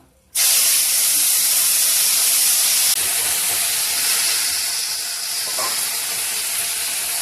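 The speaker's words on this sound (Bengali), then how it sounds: "ফুলগুলো ঢেলে দিই।" Drumstick flowers are poured into a hot pan and burst into a loud, sudden hiss that settles into a steady, close sizzle, easing slightly toward the end, with no talking.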